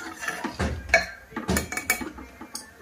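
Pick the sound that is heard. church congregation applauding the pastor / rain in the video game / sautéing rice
sautéing rice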